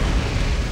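Cannon fire booms in a dense, continuous burst during an Empire Total War battle, loud and close, with no talking.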